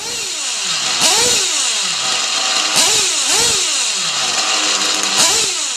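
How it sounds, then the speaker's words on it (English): A small nitro RC car engine screams at high pitch, its whine rising and falling as it repeatedly speeds past, loud and close. "got the engine tuned, and gave it a quick run"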